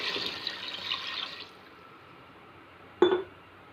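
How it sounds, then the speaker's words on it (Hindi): A jug of water pours into a pot of beef haleem with a splashy rush, then stops; a single sharp clink follows moments later, close and without speech. "अब हम इसके अंदर पानी डाल देते हैं 1 जग के बराबर"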